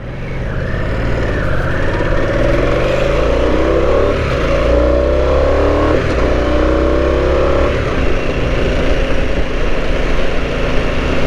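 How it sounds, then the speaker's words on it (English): A 2022 Harley Davidson Nightster with a 975 Revolution Max engine accelerates on the road, its loud engine note climbing steadily through the gears alongside constant wind rush. "Nice acceleration."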